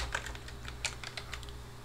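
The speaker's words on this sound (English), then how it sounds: "So type in clean, type enter." A few quick keystrokes on a computer keyboard, close and crisp, tap out a short command with light irregular clicks and no speech.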